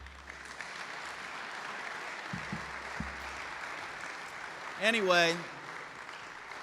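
Chapel audience applause runs as a faint, steady patter in the background while someone briefly speaks over it.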